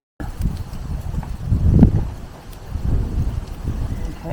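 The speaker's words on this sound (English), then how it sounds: "It's a strong wind." Strong outdoor wind buffets the camera microphone with a loud, uneven low rumble that swells and fades, peaking near the middle.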